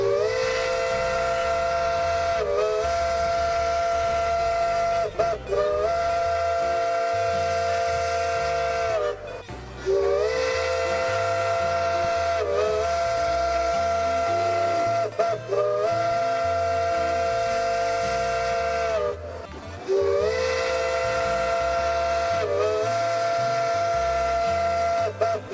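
A steam locomotive whistle in the Railroader logging video game sounds in long, loud chords, cut by short breaks about every five seconds over a low rumbling train bed.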